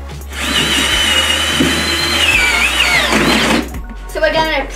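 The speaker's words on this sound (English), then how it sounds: "Front by screwing it in with tech screws," A power drill drives tech screws through the metal frame of a furniture trolley being turned into a billy cart, a loud steady whir with rising and falling pitch for about four seconds before cutting out, then a brief second burst.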